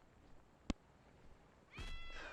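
A cat meows briefly in the video game World of Warcraft, a faint high-pitched cry near the end following a single sharp click, with no talking over it.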